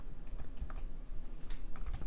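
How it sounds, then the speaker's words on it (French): Keyboard arrow keys tapped in quick succession to centre a bar in Photoshop, producing a brisk run of close, moderately loud clicks with no talking. "Pour centrer notre barre, on va le faire plutôt avec les flèches du clavier."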